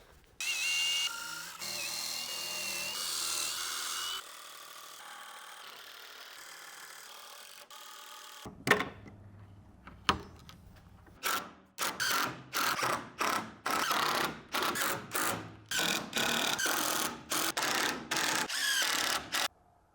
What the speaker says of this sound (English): I'm gonna first screw in the bottom.